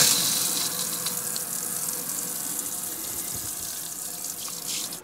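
Water gushes steadily from a hose or tap into an IKEA flat pack glass fish tank outdoors, a continuous close hissing splash that stays even for several seconds with no talk.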